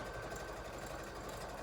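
A sewing machine runs a steady, rapid stitching chatter while sewing an upcycled T-shirt into a decorative throw pillow, faint and continuous with no talk.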